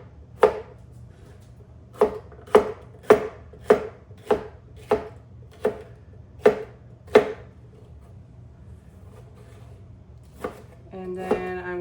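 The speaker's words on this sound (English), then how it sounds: "I'm just quickly going to get this chopped." Knife chopping peppers on a cutting board: about nine sharp, evenly spaced thuds in a quick steady rhythm, close and clear, then a pause, one more chop and a faint tonal hum at the end.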